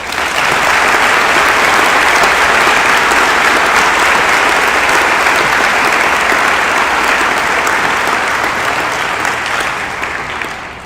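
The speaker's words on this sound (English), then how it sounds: "please give everybody standing a round of applause" A large crowd at a Class of 2024 high school graduation ceremony applauds standing seniors, loud dense clapping that holds steady for about ten seconds before tapering off.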